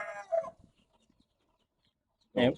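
A few soft clucking calls from a hen with newly hatched chicks, with a brief burst at the start and another at the end, separated by near silence.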